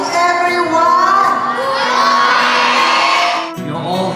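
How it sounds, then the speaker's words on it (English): Children cheering and shouting in a large crowd at a school United Nations Funday, loud and sustained, then cutting off abruptly near the end. "A warm round of applause, please, for Dr. Mark and Madam Wang"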